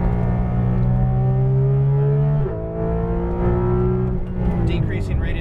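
Porsche GT2 RS engine pulling hard at full throttle on a track, a loud, close, sustained roar with rising pitch, a brief dip and shift near the middle, then climbing again.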